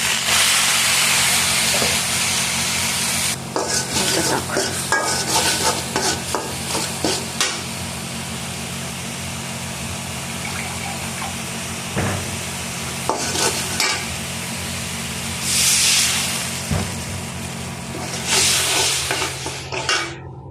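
Dried fish curry with pumpkin, eggplant and spices stirred in a frying pan, a steady close sizzle and hiss with spoon scrapes and stirring bursts repeating throughout, no voices.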